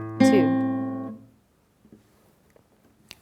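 Guitar sounding a bass A and a melody C together: one bright plucked double note that rings for about a second and then decays, followed by faint handling noises.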